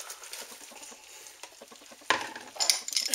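Butter and leeks hitting a large soup pot of potato and leek soup, a soft scraping stir giving way to a brighter sizzle and clink of utensils near the end, close and moderately loud.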